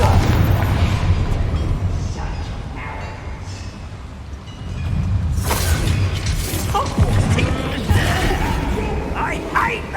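Spell explosions in the game Hogwarts Legacy hit as heavy booms and crackling blasts, loud and close, layered over rumbling combat effects while game characters shout and talk.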